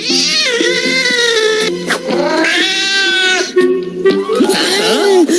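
Cats meow loudly and close by in long, overlapping cries that run almost without pause, rising and falling in pitch like drawn-out caterwauls.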